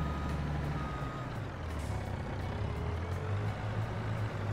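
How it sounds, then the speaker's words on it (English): A big truck in Farming Simulator 22 backs up with steady, regularly spaced reversing beeps over a loud, constant diesel engine rumble and a faint air-brake hiss. "Big truck coming through"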